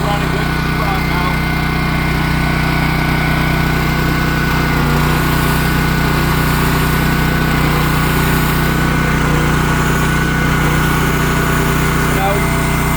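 A Champion dual fuel generator's small engine runs steadily and strongly at close range, with a constant loud drone and a low mechanical hum that holds through the whole stretch.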